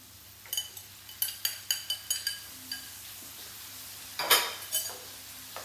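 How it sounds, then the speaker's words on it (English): A tin of chopped tomatoes goes into a Moroccan cooking pot: a run of sharp metallic clinks and taps, then a wet, splashy pour with soft sizzling, close and fairly quiet. "now we're going to add our tomatoes, tin of chopped tomatoes"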